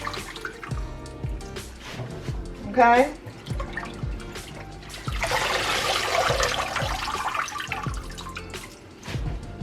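Tap water rushes steadily into a kitchen sink while collard greens are washed, a loud broad hiss lasting several seconds after some splashing and handling sounds, with a person speaking over it.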